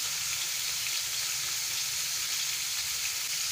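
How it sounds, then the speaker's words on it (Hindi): Food frying in oil over medium or low heat, a continuous, even sizzle that is close and fairly soft throughout, with no voices. "इसे मीडियम या हल्की आंच पर हम फ्राई कर लेंगे।"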